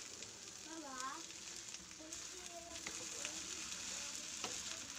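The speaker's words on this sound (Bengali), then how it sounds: "এখন আমি সবগুলো একসাথে মিক্স করে নিচ্ছি।" Fried rice with tomato sauce and soy sauce, Bangladeshi restaurant style, is stirred in a pan, giving a faint, steady sizzle with light scraping of the spatula throughout.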